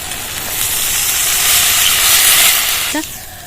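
Water is poured into a pan of frying potato, onion and tomato for a mustard bhola fish curry, setting off a loud, close, steady steaming sizzle that swells and then eases slightly, with a brief knock near the end.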